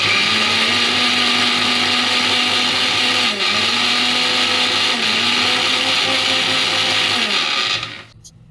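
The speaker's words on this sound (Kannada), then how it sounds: "ಇದೆಲ್ಲ ಸೇರಿಸಿ ಇವಾಗ ಗ್ರೈಂಡ್ ಮಾಡ್ಕೊಂಬಿಡೋಣ." A kitchen mixer grinder blends chopped raw mango with salt and about a cup of water. It gives a loud, steady whirring drone with slight dips in pitch, then cuts off abruptly near the end.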